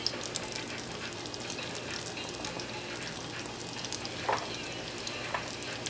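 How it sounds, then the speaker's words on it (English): Beignet dough frying in hot oil while being basted, a steady soft sizzle and bubbling with faint stirring splashes, close and continuous without talk. "you just want to keep basting them with the oil so that they all cook evenly"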